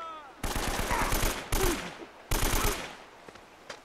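Enemy gunfire in Uncharted: Drake's Fortune, with three sharp rapid bursts of automatic fire, close and loud, separated by short pauses, plus a faint shot near the end.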